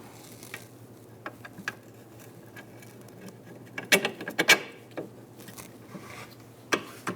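A punch is tapped to line up the stabilizer bar on a 2014-2018 Subaru Forester during a rear shock and spring job: a few sharp metallic taps, clustered and close, over faint background clatter.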